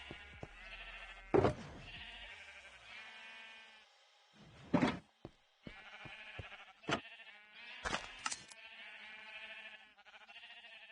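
Sheep in a video game bleat repeatedly in short, wavering cries spaced across a quiet background, each call clear and close with brief gaps between them.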